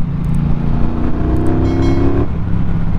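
A 2021 Triumph Speedmaster motorcycle engine runs loud and close with a steady harmonic drone, its pitch rising slightly as it revs before settling back to a throbbing idle.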